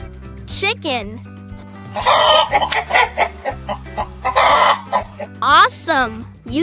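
A chicken clucks in quick, loud bursts over a bouncy children's nursery-song backing, with brighter whooping sound-effect flourishes near the start and end.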